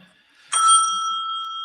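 A bell gives one bright, sudden ring that starts sharply, then hangs as a clear metallic tone slowly fading over more than a second after a quiet start.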